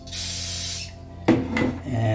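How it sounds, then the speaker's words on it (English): Brake cleaner hisses from an aerosol can onto a chip in one sustained close spray, followed by brief rubbing and scrubbing sounds. "And brake cleaner as well."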